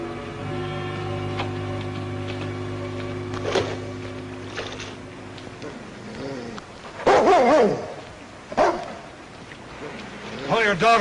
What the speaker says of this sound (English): That dog of yours has gone crazy.